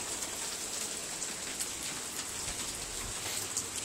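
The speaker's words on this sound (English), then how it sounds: "It is hailing ever so slightly with the sun out." Light hail mixed with rain patters steadily across a porch on a sunny Oklahoma day, a dense, even hiss of drops with no gaps.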